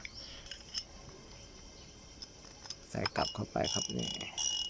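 Faint, rapid mechanical ticking of a Daiwa Sprinter ST 3000S DX spinning fishing reel being cranked, followed by someone speaking close by.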